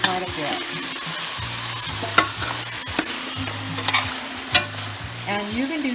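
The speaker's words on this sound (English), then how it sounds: "I'll just keep kind of tossing it around until all the onions get really sauteed and almost brown" Onions for a lamb stew sautéing in a hot pan, a dense continuous sizzle with occasional sharp clicks of tossing and stirring, close and loud with no talk.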